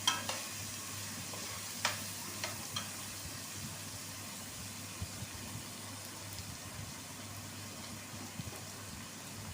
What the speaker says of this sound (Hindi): हमारा अनियन भी फ्राई हो चुका है